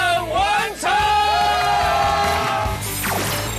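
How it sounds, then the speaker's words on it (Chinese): A variety-show audience cheers to welcome a guest, with whoops, yells and crowd noise over a loud, busy background. "我们掌声欢迎沈文成"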